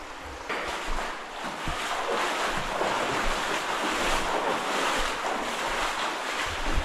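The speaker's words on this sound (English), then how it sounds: "Look at that waterfall. Whoa, it's flowing, man." Underground waterfall in a river cave, a continuous loud rushing roar of falling water that stays steady throughout, close by and unbroken, with no voices.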